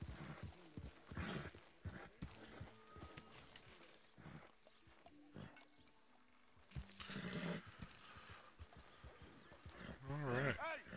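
A horse whinnies and snorts, with hooves clopping in between. A louder, wavering neigh comes near the end, and people's voices come and go around the animal's sounds.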